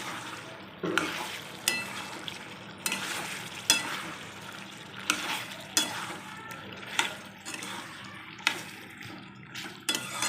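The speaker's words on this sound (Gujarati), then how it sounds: "હવે લાસ્ટમાં આપણે એડ કરીશું તેમાં ધાણા નાખી આપણે હલાવી લઈશું" A spoon stirs pumpkin sabzi with coriander in a pan, making repeated scraping strokes about once a second over a low, steady sizzle, close and moderately loud.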